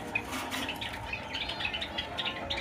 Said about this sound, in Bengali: জাকির ভাই চমৎকার একটা তোতা পাখি ভাই